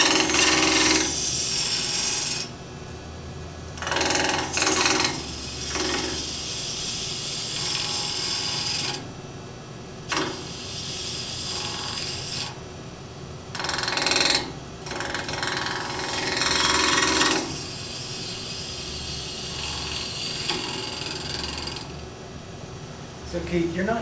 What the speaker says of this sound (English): the metal is heating up as I'm cutting it